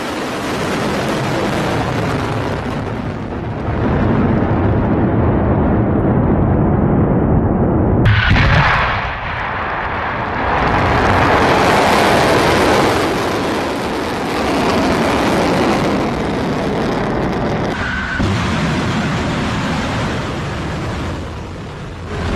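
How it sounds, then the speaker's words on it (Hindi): Iranian missile strikes hit Israel, and the explosions come through as a loud, sustained roar and rumble with a heavy booming surge partway through, continuing without voices. "ईरानी मिसाइल इजराइल पर कहर बरसा रही है।"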